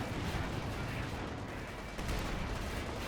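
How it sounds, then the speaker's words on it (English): Airstrike explosions pound a battlefield in Company of Heroes 2, a loud, dense roar of overlapping blasts and gunfire with a fresh heavy impact about two seconds in. "Airstrike coming. Oh, my God, that airstrike."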